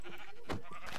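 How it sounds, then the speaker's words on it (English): A single short sheep bleat from Minecraft rises briefly near the middle, faint and alone with no talking. "Oh, I found some sheep"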